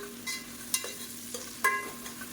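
Onions and green chillies sautéing for mutton biryani give a faint, low sizzle broken by a few sharp scrapes and clinks of a stirring spoon, close by with no talk.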